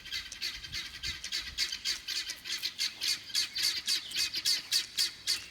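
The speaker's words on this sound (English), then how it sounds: "My guineas are going nutso." A flock of guinea fowl squawks repeatedly in a rapid, insistent rhythm of harsh, shrill calls, moderately close in an outdoor yard near a coop, with no talking.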